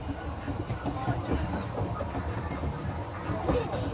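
A small ride-on train rolls along steadily with a rhythmic clatter and rumble, with a brief squeal near the end, in a busy, noisy shopping mall.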